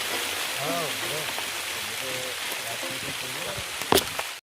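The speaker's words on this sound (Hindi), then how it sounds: "बहुत तेज बारिश हो गई दोस्तों, बहुत भयंकर कंडीशन है।" Heavy rain pours during a storm in a forest, a dense steady hiss of falling water heard under people talking, ending with a sharp knock.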